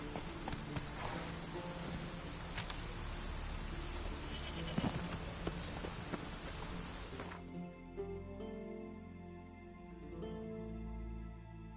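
Dense rain hiss with low thunder rumble in a video game, steady and fairly loud for about seven seconds before cutting to quieter tonal game sounds.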